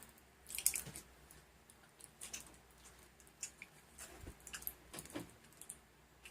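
Vitamin C gummy jelly being chewed close to the mic, with soft squishy, sticky bites and wet mouth sounds coming in irregular bursts, quiet overall with no talking.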